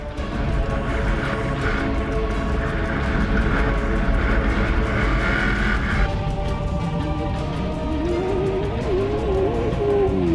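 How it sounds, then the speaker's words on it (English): A Ford V8 two-wheel drive desert race car pushed hard in a desert 400 race, its engine a loud, steady broadband roar that holds up close throughout, with a rising whine near the end. "extreme two-wheel drive runner Greg Gartner pushing his Ford V8 very hard"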